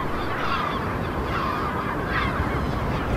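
Gulls shriek constantly over an island colony, many harsh overlapping cries forming a dense, loud, continuous chorus.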